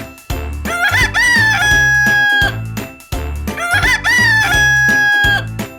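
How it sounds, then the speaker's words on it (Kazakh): A rooster crows loudly twice, the same call repeated back to back, over a bouncy musical backing. "Әтеш ку-ка-ре-ку дейді."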